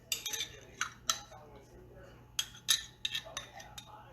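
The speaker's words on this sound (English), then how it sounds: "Spoon some of that in." Spoon clinking against a pot pie dish while home style gravy is scooped in, a quick run of bright metallic taps and scrapes in two clusters, close and fairly quiet.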